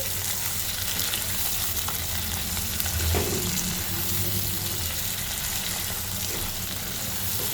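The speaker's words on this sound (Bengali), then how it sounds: "এবার দিয়ে দিচ্ছে চিংড়ি মাছ, বড় বড় ডিমালা। এখন নেড়ে নিচ্ছি।" Large roe-filled prawns fry loudly in a pan, a dense continuous sizzle with occasional scraping stirs and a brief clatter midway.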